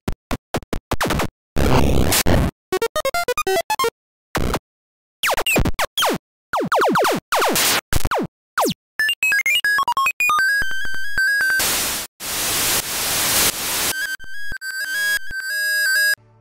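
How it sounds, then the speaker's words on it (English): Chiptune-style game sound effects made with the BFXR synthesizer: a rapid string of separate bleeps, zaps, boings and noisy bursts, then longer warbling tones and sustained beeping, loud and close with brief gaps between them. "Our sound effects were generated with a synthesizer called BFXR,"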